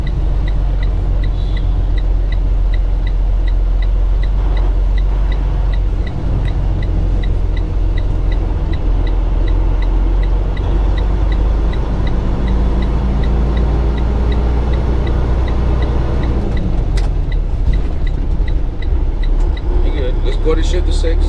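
Heavy truck engine drones loudly and steadily while the driver works through the gears, the rumble shifting slightly as revs change, with an instructor talking over it.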